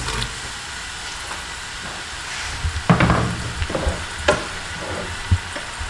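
Chopped onions frying in ghee in a pan for chicken and green peas curry, a loud steady sizzle broken by a few sharp stirring clatters, close and alone.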